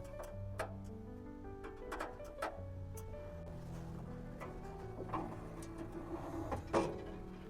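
Screws being undone and a side basket detached from an intelligent storage cabinet, a steady run of small ticks, clicks and faint metallic rattles close by against a low background hum.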